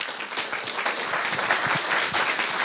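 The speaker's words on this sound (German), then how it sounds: "Dann einmal nochmal Applaus für Inga" An audience at a talk applauds a speaker, a dense, lively burst of clapping that holds steady across the short stretch, with no voices rising above it.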